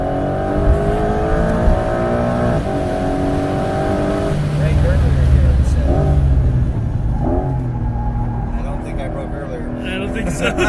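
A 2025 Porsche 911 GTS accelerates hard on a race track, its engine note rising through the gears with a dense rumble from inside the cabin, while people talk over it.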